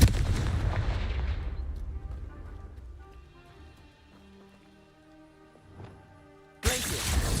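Confringo blasting spell in the Hogwarts Legacy video game, a heavy booming blast that fades into a long ringing tail of tonal game sounds, followed by a second loud burst near the end.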